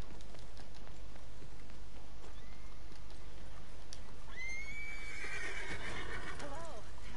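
A horse in the Red Dead Redemption 2 video game gives a loud, drawn-out whinny with a falling, wavering pitch in the second half, heard over steady ambient game noise and light rain-like hiss.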